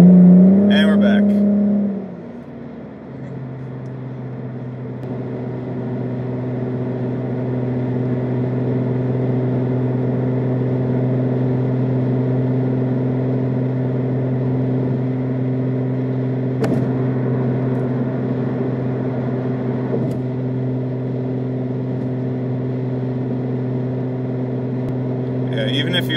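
A 2007 Hyundai Tiburon GT with a 4-speed automatic cruises at a steady 65 mph, its engine and road noise holding a constant low drone throughout, loud and close from inside the cabin.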